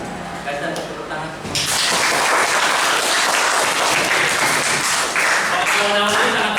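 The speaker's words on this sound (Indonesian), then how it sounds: "Kita tepuk tangan" Students in a class 9 classroom break into loud, sustained applause that starts abruptly after a quieter opening and continues steadily to the end, with voices mixed in beneath the clapping.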